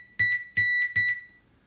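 Three evenly spaced, high-pitched electronic beeps come from a Zaxxon arcade game sound board sounding alarm 3 on test. The tones are clean, near and alone, and the last one fades out.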